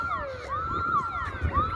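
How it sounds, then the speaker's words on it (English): Short stretch of an alarm siren going off outdoors, its wailing tone sweeping up and down in quick cycles, loud and alone without talk. "it sounds like a siren."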